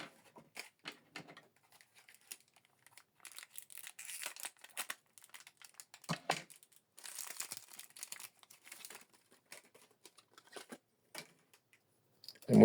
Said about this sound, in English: Remove this plastic, then you go in.